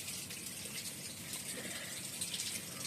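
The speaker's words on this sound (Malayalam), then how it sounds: "ഇത് വെള്ളം വറ്റി വരുന്നുണ്ട്." Water gushes and drains steadily out of a fish tank during cleaning, a continuous faint rushing flow with no talk.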